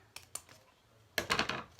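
Scissors cut a length of wire-edged craft ribbon for a bow: two light snips, then a louder burst of crisp rasping shears and rustle, close and clear with no talking.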